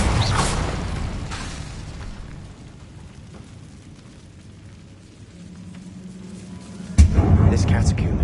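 Fire spell blast from Incendio in Hogwarts Legacy, a loud whooshing roar near the start, then a low rumbling fade, with another burst near the end.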